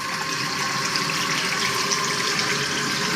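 Water streams steadily from a waterfall-style faucet whose flow-powered LED lights need no batteries or wiring, a close, even rushing hiss with no pauses.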